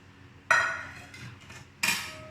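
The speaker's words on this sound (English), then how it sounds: "and we'll give it a stir" A spoon stirs tadka into Rajasthani kadi in a metal pot, making two distinct ringing clanks against the pot rim with a softer scrape between them, close and clear.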